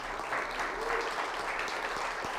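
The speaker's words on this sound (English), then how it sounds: "a huge round of applause for them" A symposium audience claps steadily and warmly, a dense wash of applause throughout, with a couple of sharper nearby claps standing out.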